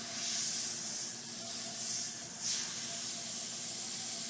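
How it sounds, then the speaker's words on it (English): An airbrush laying down soft shading sprays paint with a continuous close, airy hiss that swells slightly in a few gentle pulses, heard alone with no talking. "this airbrush is performing perfectly"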